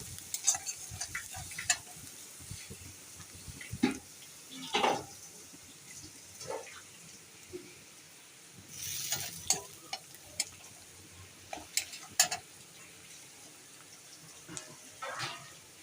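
Garlic fries in a pan with a soft, steady sizzle, broken by irregular scraping and clicking as a spatula stirs it. The sounds are fairly quiet and close, with no voices.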